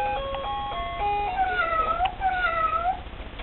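A pushed toy cat plays a short electronic jingle of beeping notes, then a few synthetic, sliding meows, all loud and close against a faint background hum.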